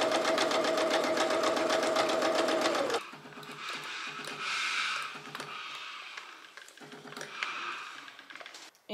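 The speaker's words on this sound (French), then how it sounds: "je viens coudre ici et déjà ça va être maintenu par la couture centrale du dessous de col" A sewing machine stitches the under-collar of a winter jacket, whirring in a fast, steady burst for about three seconds before falling to quieter fabric handling and scattered clicks.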